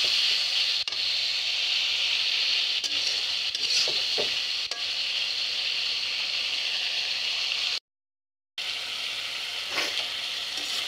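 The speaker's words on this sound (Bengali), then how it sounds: "দিয়ে এখন আমি একটু নাড়াচাড়া করব।" Tomatoes stirred into a spice masala frying in a pan make a continuous close sizzle with a few light scraping knocks from stirring, and the sound cuts out briefly near the end.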